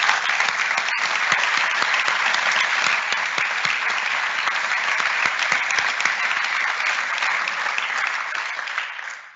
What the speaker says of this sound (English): Would you all please indulge me and just give my family a round of applause?